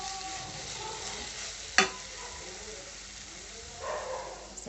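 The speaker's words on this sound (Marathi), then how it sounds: "तेल टाकले हिरवी मिरची टाकले बटाटा टाकला" Potato and green chili frying in oil for sabudana khichdi, a steady close sizzle with one sharp utensil knock against the pan and some light scraping toward the end, no voices.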